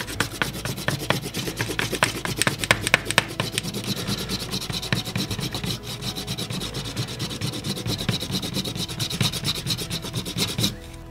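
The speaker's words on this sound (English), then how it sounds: "burnish the leather edges" Leather edges on a leather-and-wood photo album are burnished by hand in rapid, rhythmic rubbing strokes. The close, steady friction goes on for about ten seconds, then stops abruptly.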